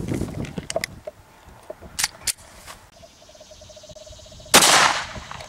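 A Glock 26 fires a Speer Gold Dot 9mm 115-grain +P round: one loud, sharp report near the end with a ringing decay, preceded by scattered clanks and handling clicks.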